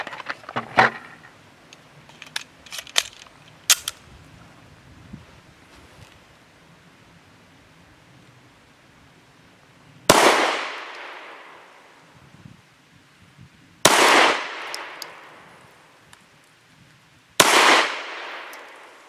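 A Zastava CZ 999 pistol fires Blazer aluminum-case 115-grain rounds at an outdoor target: three loud, sharp shots about three and a half seconds apart, each with a short decaying tail, after a stretch of quieter handling clicks.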